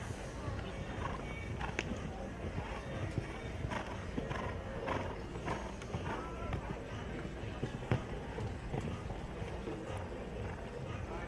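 A horse moves around a show jumping arena at a CSI5* international competition, its hoofbeats steady and mid-distance beneath continuous crowd and arena noise, with a commentator talking over it.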